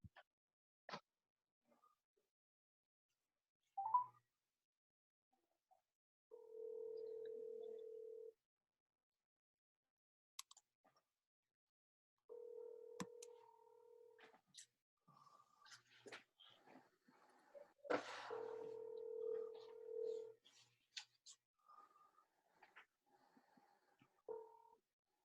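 A telephone call being placed: steady dial-tone bursts and a series of short keypad dialing beeps, with faint clicks and handling noises between, fairly quiet and close, no talk.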